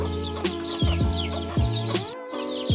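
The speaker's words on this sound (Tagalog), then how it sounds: "So here it is, the other chickens inside the cage." Caged native chickens on a farm cluck and squawk continuously, with several overlapping birds calling close by in short repeated bursts and no talk.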